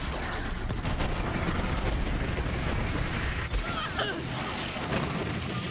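Heavy, near-continuous gunfire and blasts from Moze's guns in Borderlands 3 form a loud, chaotic barrage throughout, with no voices over it.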